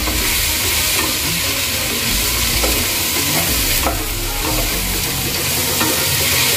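Masala with coriander powder being stir-fried for prawn fried rice, a steady close sizzle with repeated scraping and stirring throughout, no talking.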